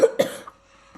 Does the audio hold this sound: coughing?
yes